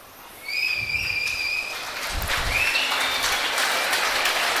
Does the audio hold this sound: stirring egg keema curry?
no